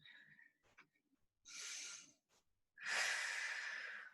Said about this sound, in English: take a deep breath at the top